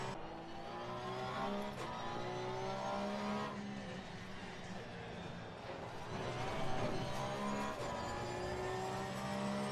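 Race car engine in the sim racing game Assetto Corsa Competizione, droning steadily with rising and falling revs through gear changes and corners, loud and continuous with no talking.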